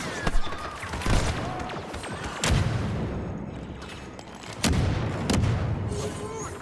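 Combat in Star Wars Battlefront 2: sharp gunshots and bursts of fire crack in a rapid cluster, then heavy booms from a grenade blast roll out twice, loud and reverberant with ongoing battle noise between.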